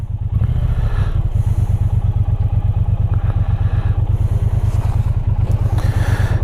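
2018 Triumph Bonneville motorcycle riding: a loud, close, steady throbbing engine pulse with rapid even firing beats and wind noise over it, no talk.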